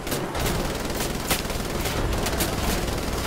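Sustained machine gun fire in the shooter game Wolfenstein: The Old Blood, a dense, loud, continuous rattle of rapid shots that fills the whole stretch without pause or talk.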